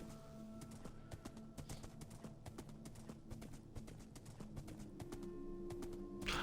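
Zombie horse hooves clip-clop steadily in a video game, joined by an occasional whinny, with game music and effects layered throughout and no talking.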